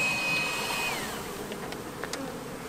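A steady, dense buzz of many honeybees close by on hive frames, a continuous droning hum with a few brief higher clicks and rustles.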